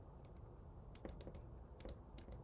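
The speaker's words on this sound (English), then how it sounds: "I'm sorry if you hear my mouse clicks and my keyboard a lot." Rapid clusters of computer keyboard keystrokes and mouse clicks sound in bursts over a steady background hum, close to the microphone, with no talking.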